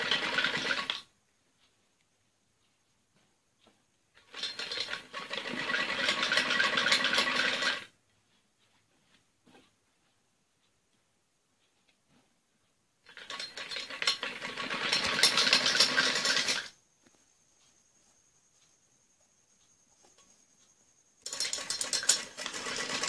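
A sewing machine stitching elastic onto trousers runs in three or four separate bursts of a few seconds each, a steady mechanical whirr broken by stretches of silence.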